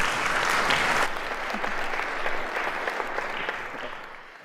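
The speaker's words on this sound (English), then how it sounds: "Please give them a big round of applause." An indoor audience gives a panel discussion a warm round of applause: dense, steady clapping that peaks early and gradually fades out over a few seconds.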